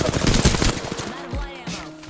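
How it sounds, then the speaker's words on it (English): Rapid automatic gunfire in the Apex Legends battle royale game, a loud dense burst of shots that cuts off partway through, followed by a few softer mechanical clicks and thuds. "Opening fire."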